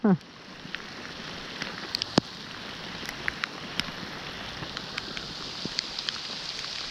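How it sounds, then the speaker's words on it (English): Steady rain picking up during a storm outdoors while fishing patters on a surface, a dense hiss with scattered sharper drops ticking throughout, continuous and moderately quiet. "The rain's picking up."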